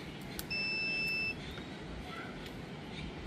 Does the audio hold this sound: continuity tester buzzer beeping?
yes